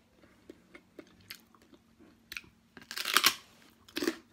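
Crispy cassava chips crunch loudly in close bites and chewing, a sparse run of small crackles building to a dense burst of crunching near the end, with no talking.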